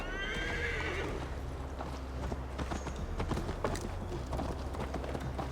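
A horse in Assassin's Creed Valhalla whinnies once at the start, then its hooves clip-clop in a steady galloping rhythm over a constant low rumble, fairly quiet and unbroken.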